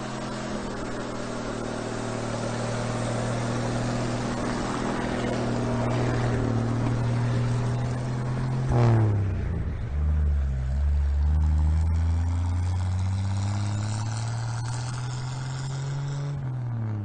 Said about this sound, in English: get a video of my dad leaving with the water truck